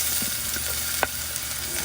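Garlic sizzles in hot oil in a pan, a steady close frying crackle with one brief louder pop, no voices.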